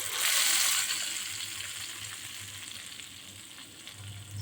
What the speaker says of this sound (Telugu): ఇప్పుడు కొంచెం తాలింపు అయితే వేసాను నూనె ఆవాలు జీలకర్ర కొంచెం శనగపప్పు ఎండుమిర్చి కరేపాకు